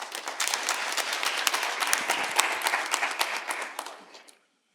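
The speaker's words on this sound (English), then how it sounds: "Round of applause, please." A plenary audience at a national space conference breaks into applause, many hands clapping densely for about four seconds before it quickly dies away to silence.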